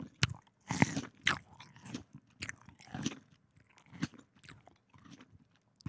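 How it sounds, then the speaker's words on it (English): Crunchy grapes bitten and chewed close up, a series of sharp, wet crunches at an irregular pace with quiet pauses between them and no speech. "Listen to how crunchy they are."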